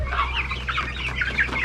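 Chickens clucking on a farm, a steady run of close, busy clucks and soft cackles with no talking.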